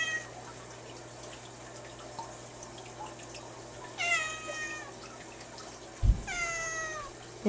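A cat meows twice, close and clear, with a few seconds of quiet between calls and faint dripping water in the background.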